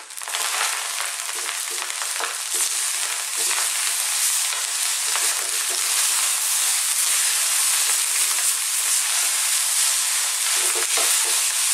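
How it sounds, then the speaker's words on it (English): Vegetable fried rice sizzles steadily in a hot pan, a dense continuous hiss with soft scraping and stirring crackles throughout, close and loud with no voices. "That's the rice cooking there."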